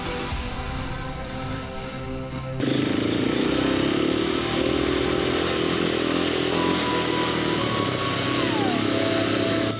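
An adventure motorcycle rides a trail in the Capertee Valley, its engine droning steadily and loud throughout, shifting up in pitch partway through and holding a continuous roar.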